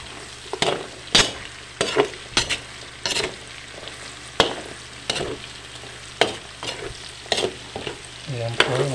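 Chorizo and vegetables for pansit bukid sauté in a pan under a steady sizzle, punctuated by sharp, irregular clacks of a spatula stirring, close and alone without speech.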